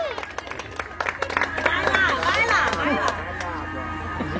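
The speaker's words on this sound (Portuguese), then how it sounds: "Uma salva de palmas, pessoal!" Applause from a group of people at a live outdoor gathering, clapping under loud speech and cheering voices that dominate over it for most of the stretch.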